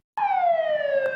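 A fire engine's siren sounds on an emergency call as the truck heads into a narrow alley: one sustained, slowly falling electronic wail, fairly close and alone.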